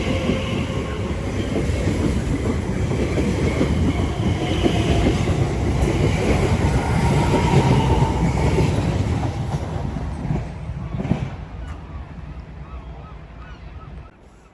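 An Elizabeth line train runs through West Ealing station on the Great Western Main Line, its loud, close rumble and wheel clatter holding steady before fading away over the last few seconds.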